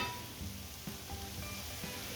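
Onion seasoned with salt, pepper and paprika fries with garlic in a pan, giving a soft, steady sizzle and crackle with a few light clinks, fairly quiet and without voices.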